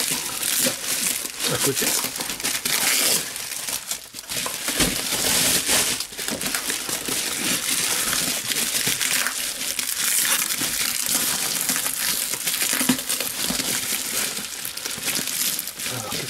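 Cardboard box and packaging crinkle, crunch and tear steadily up close during an unboxing at a workshop bench, with someone speaking French intermittently over the handling noise.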